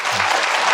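Audience applause at a Korean parent education seminar on high school credit system strategy, a steady wash of clapping from a seated crowd filling the short moment without any voices.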